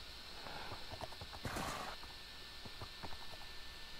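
A horse gallops in the Minecraft video game, its quick clip-clop hoofbeats running in an uneven rhythm at moderate volume, with one louder burst partway through.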